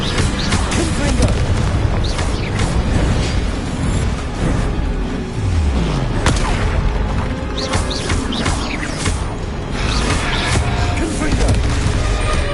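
Confringo blasting spell explosions in a Harry Potter video game, a dense run of loud booming blasts and crashes layered over continuous battle noise, with several sharp bursts standing out across the stretch and a voice briefly heard.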